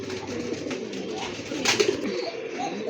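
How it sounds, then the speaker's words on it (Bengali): A female Indian Bombay pigeon gives a short, soft burst of low cooing midway through, close by, over a steady background murmur. "এটা হচ্ছে আপনার মাদি কবুতর ডাকতেছে"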